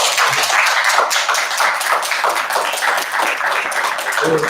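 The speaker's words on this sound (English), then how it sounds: "please give him a round of applause" Dense, continuous clapping from an audience at a board meeting, steady and fairly loud for a few seconds with no other sound on top.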